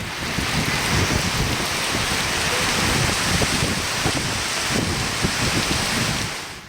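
Heavy evening rain pours over Hyderabad in a dense, unbroken roar of drops hitting surfaces. It stays loud and steady throughout with no thunder audible.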